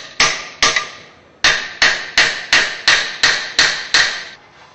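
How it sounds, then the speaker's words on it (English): A hammer strikes a metal washer nine times in a steady rhythm, bending it flat. Each blow is sharp and ringing, close and loud, with no talking. "we're going to take a hammer and we're going to actually just bend these back"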